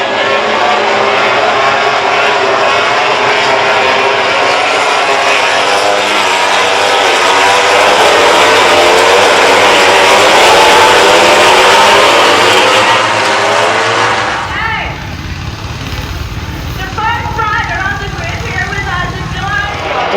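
Four-cylinder 1000 cc racing motorcycles scream past on a track at high revs, a loud sustained engine roar that drops away sharply near the end into a distant lower drone.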